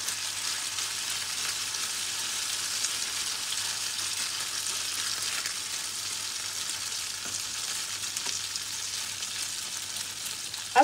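Grated potato cakes frying in a pan, a steady close hiss of sizzling oil that holds evenly for the whole stretch, with a few faint stirring clicks and no talk.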